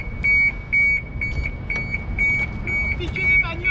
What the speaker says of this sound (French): ce que vous entendez, c'est l'alarme de la voiture de prep